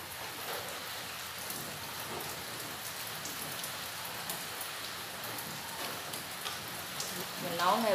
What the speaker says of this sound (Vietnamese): Mình nấu ngay bữa nay trời mưa nữa.